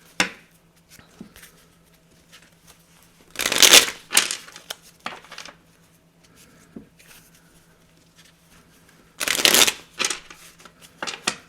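Tarot cards shuffled in two loud riffling bursts with quieter handling and light tapping between them, close up, no voices.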